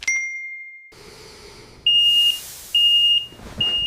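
A smoke alarm being tested chirps briefly, then sounds a series of loud, piercing electronic beeps in short bursts with brief gaps between them.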